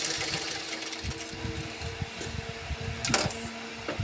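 A sewing machine stitches a fabric bag with a steady, fast mechanical whirr and rapid needle clatter, fairly quiet and close, with a brief louder clunk near the end.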